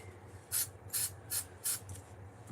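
Adhesive glue sprayed from a can onto one side of a craft piece: four short, sharp hissing bursts at an even pace, close and loud, with brief quiet gaps between them.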